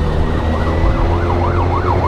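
A fire engine siren wails in a rising and falling sweep, loud and close, over steady traffic and engine rumble on a crowded street.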